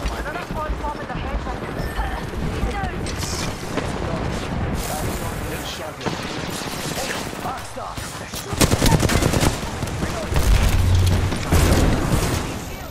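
Continuous Apex Legends gunfire with rapid bursts and heavy impacts, thick and loud throughout and growing louder toward the end, with a player talking over it.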